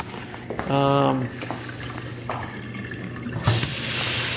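A dishwasher in a newly built home drains with a steady rushing, gurgling water noise, broken briefly by a short voice.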